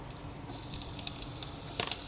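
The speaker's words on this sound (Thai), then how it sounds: "อันนี้เอากระเทียมเราไปลงคือเจียวปกติ" Garlic frying in oil in a pan for an omelette: a steady, soft sizzle with light crackling pops and a few sharper spits near the end.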